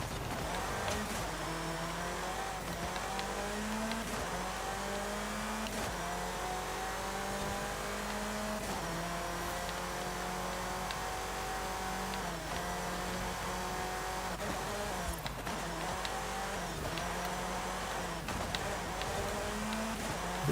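Car engine in Forza Horizon 5 driving continuously, revving up and down through gear shifts of a 6-speed gearbox at moderate, steady volume.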